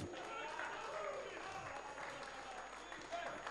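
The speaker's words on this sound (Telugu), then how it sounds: "can we all big round of applause for Vivek Sagar please" Audience applause at a Telugu film audio launch, a dense, steady wash of clapping from a crowd that sounds somewhat distant and fairly faint, sustained throughout.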